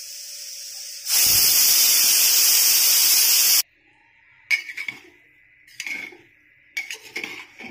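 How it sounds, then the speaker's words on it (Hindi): Pressure cooker on the stove making jeera rice from raw rice, its whistle letting out a loud, steady hiss of steam for about two and a half seconds, followed by softer clinks of pots and utensils. "अब हम इसमें ढक्कन बंद करके इसमें 1 सीटी लगाएंगे।"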